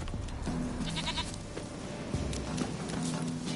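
A goat in a video game bleats in a few wavering cries, close and clear over a steady ambient backdrop.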